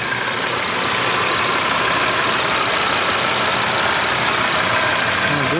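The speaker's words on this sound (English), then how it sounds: "That good old inline 5-cylinder." A 2.5-litre turbocharged inline five-cylinder engine in an Audi RS3 idling with the hood open, a steady, loud, close mechanical hum holding constant throughout.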